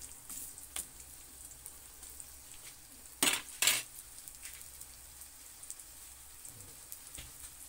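Garlic and ginger fry in oil for chicken curry, a faint, steady crackling sizzle with scattered pops and a couple of louder stirring clatters midway.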